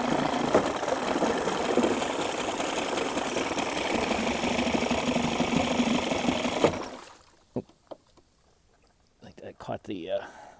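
A 1989 Evinrude 30 HP outboard motor idles steadily and loudly for about seven seconds, then cuts off abruptly, leaving near silence with a few brief knocks and faint sounds.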